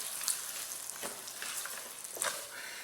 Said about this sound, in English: So I'm going to go ahead and stir this in, and we will pick this up when the rice is nice and toasted